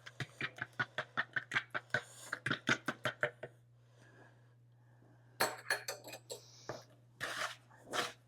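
Eggs scrambled in a bowl for a rolled oats chocolate cake: a utensil clicks rapidly and rhythmically against the bowl in quick bursts, pausing briefly, then resuming in irregular taps over a low steady hum.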